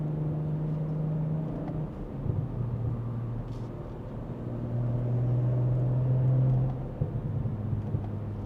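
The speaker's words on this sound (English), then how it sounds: "As you can hear, the car is super silent" A BMW G2X M340i with a DCE Parts 300-cell downpipe and resonated OPF delete idles and rolls along, its exhaust a low, steady droning rumble that swells gently, then settles, quiet and close with no talking.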